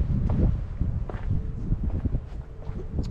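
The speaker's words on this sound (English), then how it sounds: "what was a still night turned into a pretty windy night" Night wind while wild camping at an abandoned fort on Comino, Malta, buffets the microphone in low, uneven rumbling gusts, with faint rustling and a few soft thumps close by.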